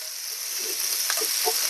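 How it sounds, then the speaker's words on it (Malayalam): Onions sauté in a pan with a soft, steady sizzle, joined by a few light scraping stir sounds near the end. "അപ്പം ഇതൊന്ന് വഴറ്റിയെടുക്കട്ടെ ഉള്ളി."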